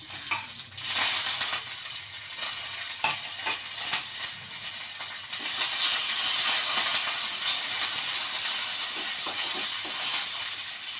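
Dried chillies and curry leaves sizzle in hot oil with mustard seeds on a low flame, a steady close hiss and crackle that holds at one level throughout with no voices over it.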